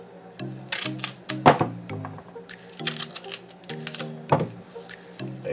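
A knife cuts off the ends of plantains on a board for Jamaican plantain porridge, giving close, crisp knocks and thunks in an irregular rhythm among small clattering kitchen noises, with no talk.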